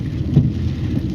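Heavy rain with thunder rumbles in a low, dense roar, a brief deep swell rising and fading over about a second with no voices.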